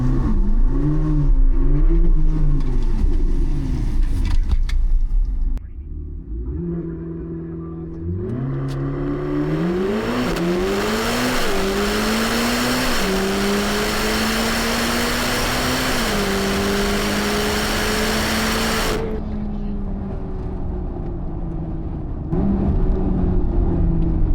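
A Chevrolet C8 Corvette ZR1 makes a drag strip run, its engine loud and close, revving and climbing through rising gear pulls with brief dips at shifts before easing off and idling again.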